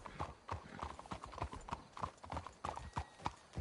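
Horse hooves clip-clopping in a steady walking rhythm within the Red Dead Redemption 2 video game, fairly close and moderately loud, with no talking over them.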